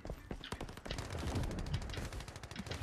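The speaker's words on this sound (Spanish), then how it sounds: "Están disparando con mucha gente por allá" Distant gunfire in the video game Lost Light pops in scattered bursts and volleys, fairly faint and off in the background throughout.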